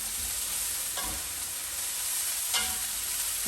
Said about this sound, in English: Okay, I just want to stir that through.